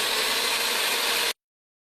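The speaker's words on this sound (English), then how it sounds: "Now I have to just drill right towards the center" Power drill boring a hole toward the center of a wooden segmented vase for a dowel pin, a close, loud, steady whirring grind that stops abruptly after about a second.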